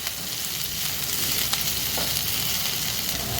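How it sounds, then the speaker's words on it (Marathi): Soybean chunks sauté in a pan for restaurant-style soybean chilli, giving a loud, continuous frying sizzle with an occasional faint clink of stirring and no voices. "मग त्यामुळे थोडीशी परतायची आपण, थोडीशी अशी मऊसर झाली पाहिजे इथपर्यंत परतायची"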